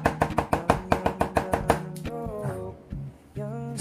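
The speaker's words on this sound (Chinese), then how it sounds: "适量的泡椒跟野山椒把它剁碎" Pickled chilies and wild mountain chilies are minced on a board for Guangxi laoyou noodles: a quick, even run of about a dozen close, crisp chops that then stops, followed by faint tonal background sound.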